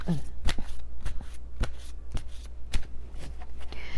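Tarot love cards are shuffled by hand, with crisp, evenly spaced riffles and taps repeating about twice a second, close and clear.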